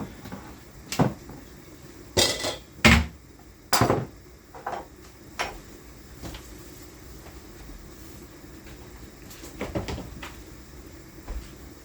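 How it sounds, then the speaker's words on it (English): Oven door opening and a dish of brown stew chicken or roast potatoes being placed inside, heard as a few sharp clanks and thuds spread across the clip, close and fairly loud against a quiet kitchen background. "So I'm going to go over now and put this into the oven."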